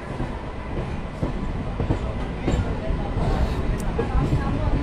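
A new train at platform 2 of Masagram Junction gives off a loud, steady rumble with a faint rolling clatter that holds evenly throughout.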